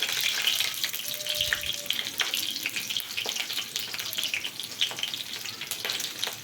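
Potatoes and onions fry for a jackfruit curry with a continuous crackling sizzle, a few sharper pops and a faint watery hiss throughout.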